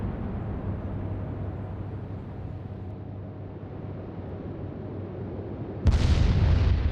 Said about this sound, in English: he just exploded again